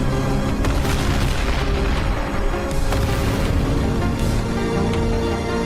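Repeated booming explosions in an animated Skibidi Toilet episode, a loud, continuous barrage of deep blasts and rumbling with no break, heard alone without talk.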